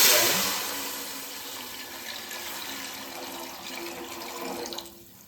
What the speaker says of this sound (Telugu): ఇందులో వాటర్ అయితే వేసుకోవాలి